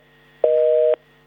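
A single steady telephone tone, about half a second long, sounds alone and clearly after a dropped phone line during a live news broadcast interview.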